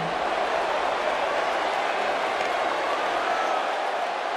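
Wrestling crowd cheering for a wrestler, a dense, continuous wash of distant voices and applause-like noise holding at an even level throughout, with no single voice standing out.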